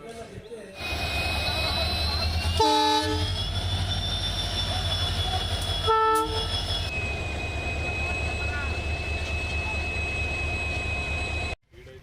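A goods train bound for a steel plant passes close by with a steady loud rumble and sustained high whine, broken by two short horn-like tonal blasts; no speech is heard.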